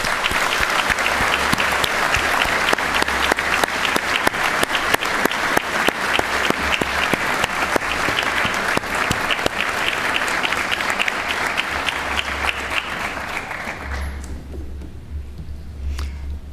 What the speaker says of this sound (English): would you please join me in a round of applause for all the Swinburne staff